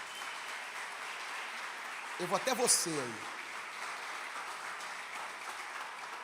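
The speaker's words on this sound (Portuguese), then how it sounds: "Aplauda Jesus aí pela vida do Alan." Church congregation applauding for a birthday celebrant during an Assemblies of God service, a steady broadband clapping wash throughout, with a voice speaking briefly over it midway.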